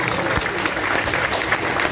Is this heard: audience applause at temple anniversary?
yes